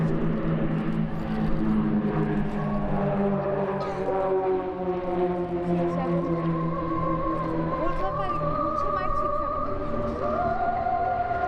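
A propeller aeroplane drones steadily in the distance during an aerobatic inverted pass and turn at an airshow, its engine pitch slowly rising and shifting as it manoeuvres, with a voice talking over it.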